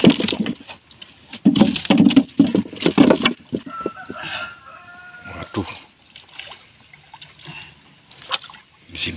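Water is splashed by hand during traditional langgai fishing in Riau, a cluster of close, sharp splashes in the first few seconds, followed by quieter sloshing, a rooster crowing and voices talking nearby.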